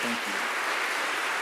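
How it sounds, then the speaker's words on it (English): Audience applause at a pipe band's Celtic Christmas concert: a short, steady burst of many hands clapping, filling the room evenly at moderate loudness. "let's have a big round of applause for them."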